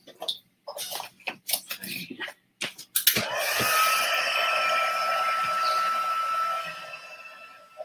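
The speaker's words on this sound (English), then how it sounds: "then we'll need our heat tool" A heat tool melts embossing powder on a watercolour card, starting abruptly after some short bumps and taps and then blowing as a steady, loud whirring hiss that holds for several seconds before cutting off near the end.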